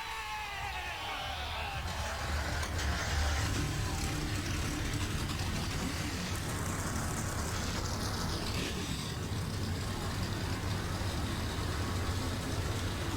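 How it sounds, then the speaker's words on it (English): Racing truck engines in a racing video game at Road America start up and idle together, a dense, steady low engine rumble that holds at constant loudness throughout with no pauses. "Drivers, start your"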